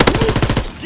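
A short, loud burst of rapid automatic gunfire from a video game, several closely spaced shots ringing out in under a second.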